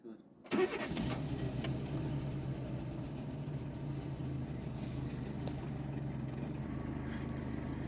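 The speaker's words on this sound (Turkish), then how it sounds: "İlk bir marşına basalım." A car engine is cranked and fires up on the first turn of the key during a repair-shop check, then keeps running steadily at a loud, rough idle with a broad rumble throughout.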